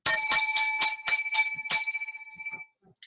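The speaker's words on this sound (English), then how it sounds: "I want to start off by giving 7 lucky bells" A bright bell, rung as a sound effect, strikes seven times in quick, slightly uneven succession. Each ring is loud and close, and the last one is left to ring out and fade.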